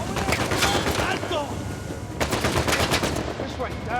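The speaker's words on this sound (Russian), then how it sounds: "Хорошо, что этот автомат стреляет этими поролоновыми патронами." Automatic assault-rifle fire in Uncharted 4, loud repeated bursts of rapid shots with short breaks between volleys, close and dominant throughout.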